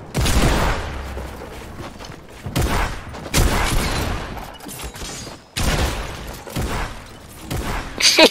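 Bursts of rapid video game gunfire crackle in quick volleys separated by short pauses, loud and close, with some thuds mixed in.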